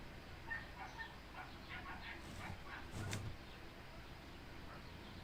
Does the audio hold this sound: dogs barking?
yes